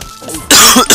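Two or three harsh, rough coughs in quick succession, loud and close to the microphone.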